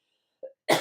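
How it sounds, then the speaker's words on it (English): A single sharp cough bursts out after a brief throaty sound, close and fairly loud against silence. "I am going to still have the cough occasionally"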